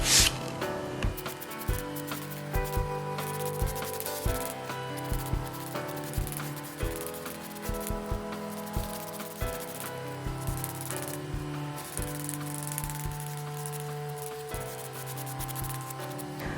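Steady close rubbing as a brush drags chalk paint along a surface, a continuous scratchy texture with small repeated strokes and no talking.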